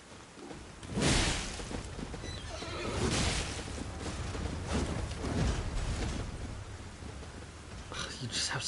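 A horse in the video game Elden Ring whinnies and neighs several times in bursts, with hoof clatter and a rumbling, stormy background.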